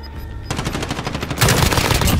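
Rapid automatic gunfire rattles in Call of Duty Warzone, a dense, loud burst of shots that intensifies in the second half, close and continuous with no pauses.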